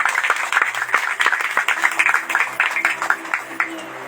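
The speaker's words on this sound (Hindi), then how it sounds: "उसे हम खुलकर हम परमेश्वर की ताली बजाते हैं" A church congregation claps for God in rapid, rhythmic bursts of hand claps, fairly close and lively, with a voice heard faintly among the claps.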